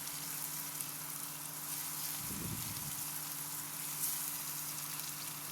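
Onions sautéing with salt in a pan give a soft, steady sizzle with a continuous faint crackle. A brief stir or scrape sounds midway, and no one speaks.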